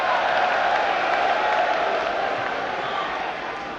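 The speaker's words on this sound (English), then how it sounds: "I do not think it deserves clapping" A large debate audience claps and cheers in a steady, dense wash of applause that holds loud throughout and eases off slightly at the end.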